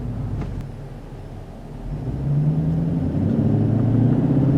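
A 5.7-liter Hemi V8 in a 2010 Dodge Challenger R/T revs up from a low idle burble into a louder, deeper sustained growl that swells and holds near the microphone.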